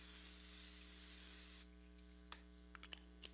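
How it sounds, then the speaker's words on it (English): A steady hissing spray from an aerosol can of butter cooking spray into a pan lasts about a second and a half, then stops, leaving a low electrical hum and a few faint clicks. "Use this butter spray."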